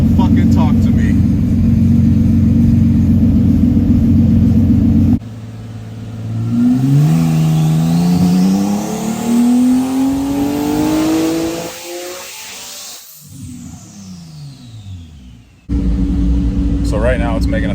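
A Nissan R35 GTR engine pulls hard on a dyno, revs climbing steadily under load in a long, loud sweep with turbo whistle, between stretches of idle and people talking.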